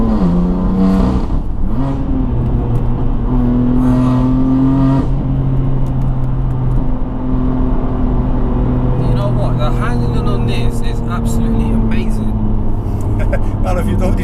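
A BMW F80 M3 drives on winding roads, its engine droning steadily and rising in pitch as it accelerates through gears, loud and close throughout, with people talking over it.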